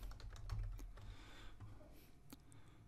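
Typing on a computer keyboard while filling in a Microsoft Forms survey: a steady run of close, crisp key clicks with a few louder strokes and low background hum, no talking.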